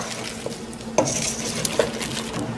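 A spoon scrapes and clinks in a pot of cut cauliflower and potatoes with a little water, a few soft knocks over a low simmering hiss, close up and without voices.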